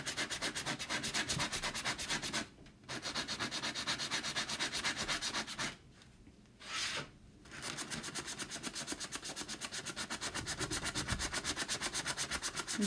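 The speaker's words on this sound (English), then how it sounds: "Just sanding away." A vintage truck body hand-sanded with a sanding block makes rapid, rhythmic rasping strokes, close and steady, broken by two short pauses.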